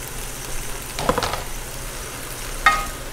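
Shrimp going into a sizzling pan for pancit canton set off a brief burst of frying and stirring, then a single sharp scrape, all over a low steady sizzle.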